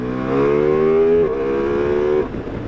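A Ducati Multistrada V4S motorcycle engine revs high and steady in second gear, pitch climbing slightly before a brief dip, then dropping off as the throttle closes.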